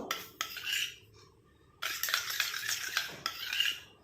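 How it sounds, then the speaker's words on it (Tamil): A homemade natural hair dye mixture being stirred smooth in a bowl, heard as bursts of close scraping and clinking with short quiet pauses between them. "இப்போ நல்லா மிக்ஸ் பண்ணியாச்சு. நல்லா கட்டிகள்லாம் இல்லாமல் எல்லாம் மிக்ஸ் ஆகிடுச்சு."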